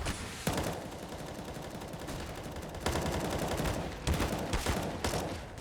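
Rapid gunfire bursts from Counter-Strike on the Mirage map in a Renegades vs Cloud9 esports match, sharp repeated cracks standing out over continuous game noise and crowd ambience.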